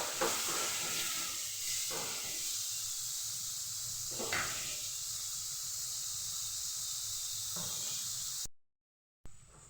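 Grated coconut and copra sizzle in hot oil in a pan, a steady bright hiss with a few louder bursts as the mix is stirred, then a sudden cut to silence near the end.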